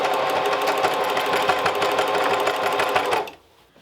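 A Singer Heavy Duty 4411 sewing machine runs in a fast, steady mechanical whir with rapid needle ticking, close and clear, then stops abruptly.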